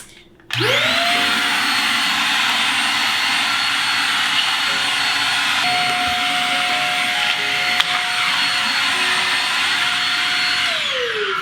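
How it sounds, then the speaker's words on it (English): A vacuum cleaner switches on with a rising whine and runs steadily and loudly, its pitch shifting slightly as it works. "I'll grab my vacuum cleaner and I'll just kind of run it over there and remove any extra"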